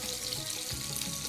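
A brief, steady hiss of cubed onions sizzling as they hit hot oil, an even frying crackle with no voices.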